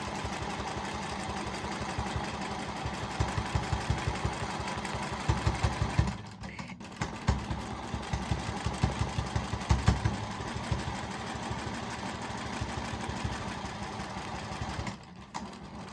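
A sewing machine stitches a scrap quilt with a rapid, steady mechanical whir and needle clatter, pausing briefly twice before starting up again.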